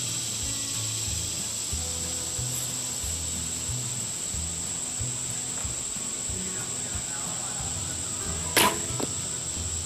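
An arrow loosed from a bow at a low-set 3D archery target outdoors at a fish and game club gives a sharp, brief snap near the end. A steady high insect drone and quiet rustling fill the background.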